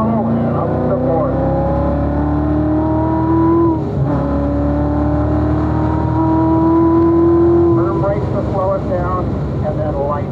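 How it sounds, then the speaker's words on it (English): A Chevrolet Corvette Z06 engine at full throttle on the Spring Mountain race track, a loud, close, sustained rising roar climbing through the revs, with a brief dip for a gear change midway before pulling hard again. "go into full throttle and up to the board"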